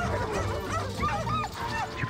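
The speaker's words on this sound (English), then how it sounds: "You could just hear the dogs now being released on the other hillside." Hunting dogs released on a hillside in Spain for wild boar, a distant pack yipping, barking and whining in overlapping bursts across open country, no talk.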